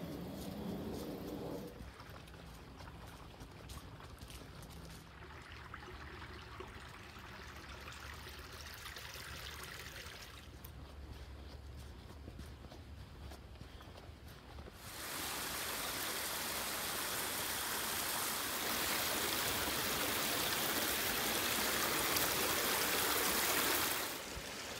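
Small cascading waterfalls and a stream along a forest trail in the Piedmont of North Carolina, a steady rushing and trickling wash that grows louder and fuller partway through, with no voices.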